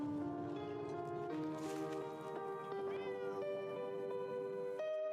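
A cat meows repeatedly in drawn-out, tonal cries that rise and fall, several calls in a row close to the listener, with faint rustling beneath.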